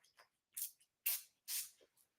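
Vanilla essential oil room spray misted from a pump bottle, a few short hissing bursts with pauses between, close and fairly quiet, with no talking.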